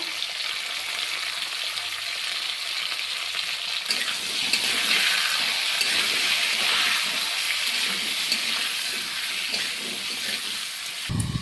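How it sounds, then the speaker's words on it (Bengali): Vegetables including drumstick and raw banana fry with salt and turmeric in a pan, giving a loud, steady sizzle with hissing steam that runs unbroken from start to end. "এবার সবজিগুলোকে নুন আর হলুদ দিয়ে ভালো করে ভেজে নিব।"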